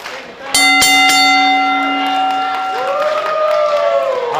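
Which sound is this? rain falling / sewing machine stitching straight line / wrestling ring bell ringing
wrestling ring bell ringing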